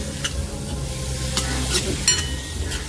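Tomatoes cooking with spices in a pan for Indian-style pasta, a low sizzle under a few soft scrapes of a spoon stirring them.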